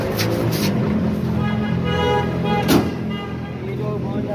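A goods van of the Al-Madina service loaded with goats runs with a steady, fairly loud engine rumble, a brief knock partway through, and voices sound faintly over it.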